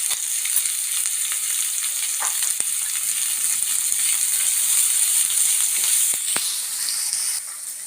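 Chopped onions with salt fry in a hot pan, a steady loud sizzle throughout with occasional scraping and stirring clicks from a utensil.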